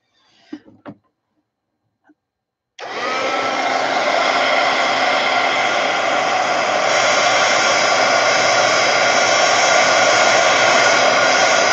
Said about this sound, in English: So I'm going to get my heat gun out